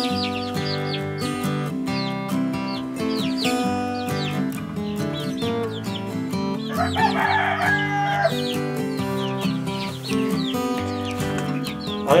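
Young chickens moved into a new coop, heard in steady overlapping chirps and clucks that run continuously and fairly loud throughout, with a brief busier flurry midway.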